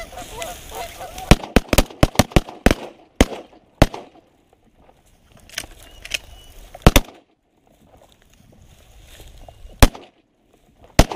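Canada geese honk loudly and repeatedly during a hunt, sharp calls coming in irregular bursts with quiet gaps between, some strident and close, others fainter.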